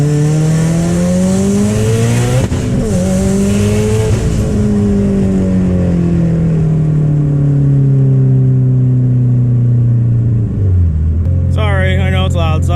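Subaru STI with an EJ engine, big turbo and Tomei exhaust, revving loudly from close by: a rough, droning rise and fall of engine pitch, a sharp drop near the end, then a brief burst of higher revving.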